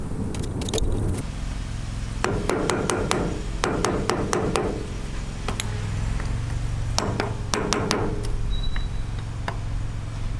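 A boat trailer hub cap struck with a hammer to pop it off, sharp metallic blows falling in quick clusters over steady traffic noise from a road nearby.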